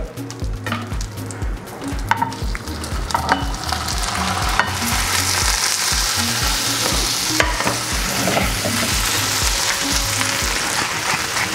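Gnocchi frying in foaming butter, a loud, dense sizzle that swells and holds steady, with a low rhythmic thumping in the background and occasional clinks; no voices.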